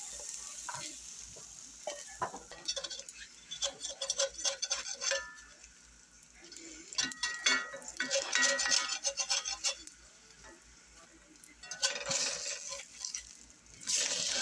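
Sliced onions and peppers go into a hot pan and start sizzling, with bursts of stirring and scraping that rise and fall across the stretch; no one speaks.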